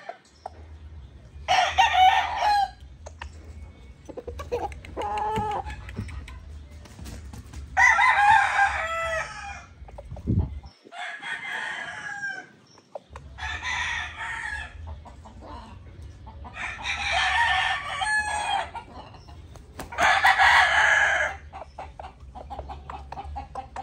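A roughly two-year-old Hatch Grey gamecock rooster crows loudly several times in repeated bursts, with clucking and soft farmyard sounds in between.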